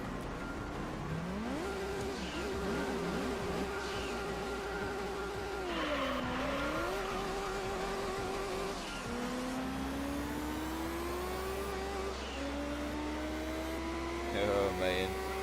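Honda Integra racing in Gran Turismo 3, its tuned engine droning and rising steadily through the gears with brief dips at shifts, turbo whine and tire noise layered over a constant low rumble, with no talk.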